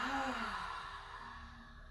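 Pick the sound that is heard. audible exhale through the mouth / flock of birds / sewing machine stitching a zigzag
audible exhale through the mouth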